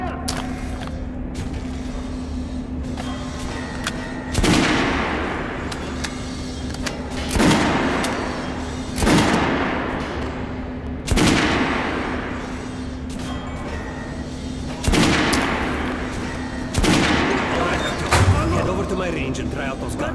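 Guns fire at a shooting range in Metro Last Light, with single loud shots recurring every few seconds over a steady low hum.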